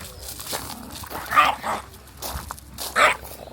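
A dog near a campsite in Croatia gives a couple of separate barks over steady outdoor background noise, with no talking in between.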